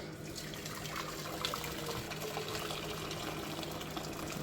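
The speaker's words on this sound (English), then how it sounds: "I'm now going to add the boiling water to the pan" Boiling water from a just-boiled kettle pours into a pan while making peanut butter protein bars, a steady, soft rushing and splashing stream that runs continuously at low volume.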